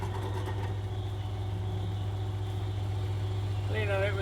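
A Meddings pillar drill runs with a steady motor hum and strong low drone while drilling holes out to 8mm in a custom chopper electrics box, with a higher whine rising near the end.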